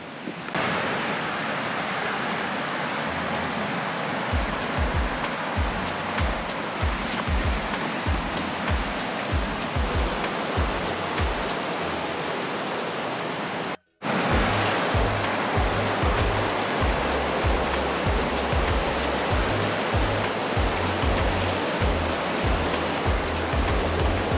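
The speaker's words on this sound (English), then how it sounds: "above Swift Lake and back on the Lewis River." Lewis River rushing loudly in the Mt St Helens wilderness of Gifford Pinchot National Forest, a dense, constant roar of close whitewater with a very brief dropout midway.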